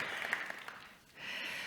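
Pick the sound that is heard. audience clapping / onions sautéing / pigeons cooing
audience clapping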